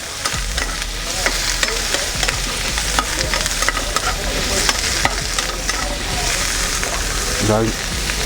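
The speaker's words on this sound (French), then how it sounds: "On remue." Mushrooms and shallots frying in a pan while being stirred, a loud continuous sizzle with scraping and clattering stirring strokes throughout, and a brief voice near the end.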